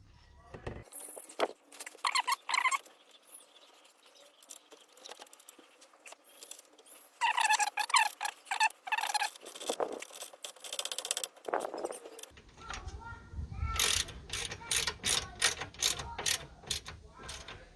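Ratchet spanner clicking as it tightens 8mm radiator bolts on a Ford Mondeo Mk3 ST220, bursts of rapid close ratcheting separated by pauses, with some handling clatter and no talk.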